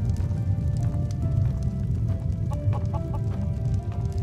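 Chickens clucking in the fantasy role-playing game Enderal, several short repeated clucks over a steady low rumble of game ambience, fairly close and continuous with no talk.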